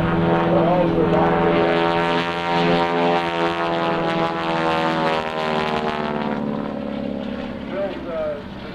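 A Boeing Stearman PT-17 biplane primary trainer flies at the 2001 NAES Lakehurst airshow, its propeller engine droning loudly and continuously with a rich, shifting tone while someone narrates over it.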